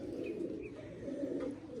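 Female pigeons packed together inside a net coo in a steady, continuous low murmur, fairly close and without pause, with no talking over them.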